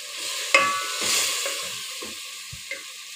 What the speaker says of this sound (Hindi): अच्छा, चिकन हमारी अच्छी तरह से भून रही है।